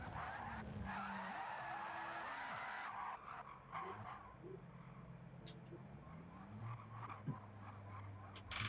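A Lamborghini in a racing video game at Le Mans howls through engine revs and gear shifts with tire skids, sitting at a low level under steady talking.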